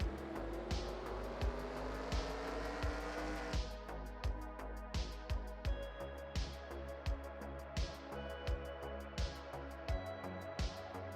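Race cars roar through a NASCAR video game race, with Tim Flock's 1955 and Buck Baker's 1956 cars in the field. Engine tones climb and shift steadily, broken by a regular run of sharp clicks and pulses.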